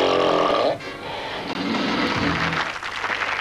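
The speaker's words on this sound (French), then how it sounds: "Émettre en respirant pendant le sommeil un bruit plus important que celui de la respiration habituelle." Loud, rough snoring from a person asleep, harsh rattling breaths running continuously for a few seconds with a brief dip partway, with no voices over it.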